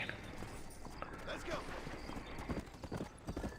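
Horse hooves clip-clop in the video game Red Dead Redemption, a steady quiet rhythmic patter of footfalls under a low background bed, with a few sharper hoofbeats toward the end and a soft whinny-like tone.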